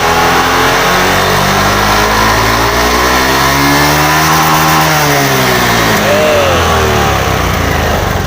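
A fuel-injected motorcycle engine with a stutter on initial throttle is revved hard close by, its pitch rising and falling in long sweeps over a loud, continuous roar.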